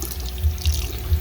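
Hot water running steadily from a tap fed by a Chronomite point-of-use instant water heater, a loud, close, continuous rushing flow with no voices.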